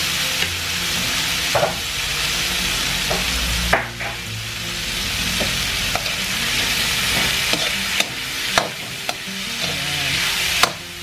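A spoon scrapes and knocks through goat caldereta simmering in a pan, steady sizzling underneath with periodic sharp scrapes and taps, close and continuous, no voices.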